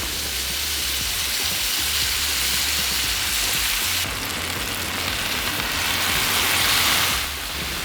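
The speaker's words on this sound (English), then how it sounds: "we get some oil on the griddle. I have it set to medium high, and we're just gonna sear the steak" Skirt steak searing in oil on a Blackstone griddle at medium-high heat makes a loud, dense, continuous sizzle that holds steady and close throughout, with no talking.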